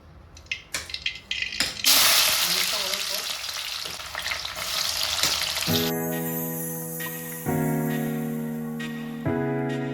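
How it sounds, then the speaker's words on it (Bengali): Onions for birista fry in white oil and ghee in a kadai: a loud, steady crackling sizzle with scattered pops and stirring, later joined by a sustained tonal hum layered over the frying. "অ্যাকচুয়ালি বেরেস্তাটা ভেজে নেবো প্রথমে, তো একটু সাদা তেল আর একটু ঘি দিয়ে ভাজবো।"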